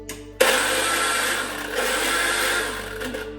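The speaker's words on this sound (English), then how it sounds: "I'm just going to place this into a chopper, crush this into here." An electric chopper whirs into life crushing dried wild garlic, starting abruptly and holding a loud, steady motor drone with slight shifts in pitch as the contents break down.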